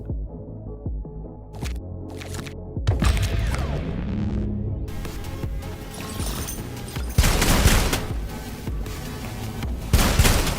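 Rapid gunfire from a weapon in the shooter game Sulfur, bursts of shots cracking close and loud over a humming game soundtrack, with dense volleys toward the end.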